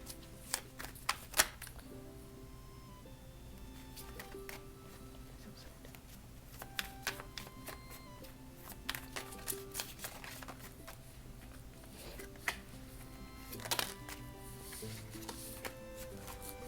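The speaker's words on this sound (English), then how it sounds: "get these last cards shuffled up" Playing cards being shuffled by hand for a card reading: sharp riffling bursts and clicks scattered over a quiet room tone, loudest near the start and again later.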